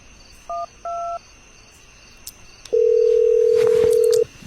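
Telephone keypad tones as someone dials the police: two short beeps, then a pause, then a long steady dial tone, clear and close, with faint insects and a soft background hum.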